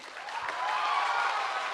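Audience applause at a live podcast recording with a young crowd, a steady wash of clapping throughout that is moderately loud but fairly thin and sparse.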